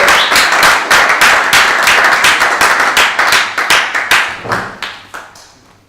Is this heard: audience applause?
yes